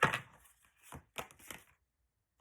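A deck of oracle cards being cut and shuffled by hand: a loud card slap opens, then a few quick, close papery riffles and taps in short bursts, with quiet gaps and no voice.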